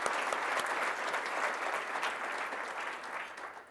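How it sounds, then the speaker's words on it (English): An audience at a manufacturing excellence awards event claps for two finalists, a dense, even burst of applause that fills the room at moderate volume and tapers slightly toward the end. "let's have another round of applause for both of our finalists"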